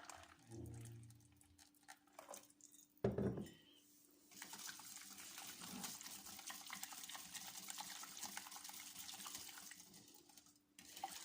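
Warm milk, half a litre, poured into a sweet bun dough mixture in a home kitchen, a steady liquid splash running for several seconds after a short clatter of a bowl or utensil.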